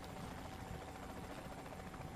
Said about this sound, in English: Hey, can we take the helicopter?